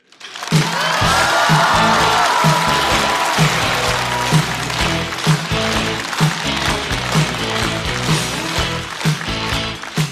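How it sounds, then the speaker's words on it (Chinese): A studio audience at a stand-up comedy show claps and cheers loudly as a comedian walks on stage, sustained applause with scattered whoops, no speech. "掌声欢迎步惊云"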